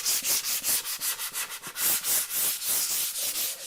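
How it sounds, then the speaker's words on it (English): Kitchen cabinet wood hand-sanded with sandpaper, a close rhythmic series of rasping back-and-forth strokes, about a dozen quick rubs at an even pace with no one speaking. "be careful not to push the sandpaper over and past the edge"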